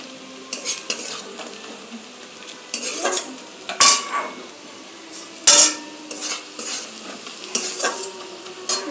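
Onions with turmeric and cumin frying in a pan, stirred in a steady series of scraping strokes and utensil clinks over a soft background sizzle, fairly close and with no talking.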